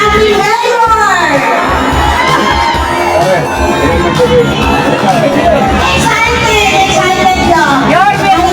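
A large crowd at a lively outdoor celebration for a mayor's 50th birthday in the Philippines cheers, whoops and shouts loudly and continuously, a dense roar of voices with bursts of applause mixed in throughout.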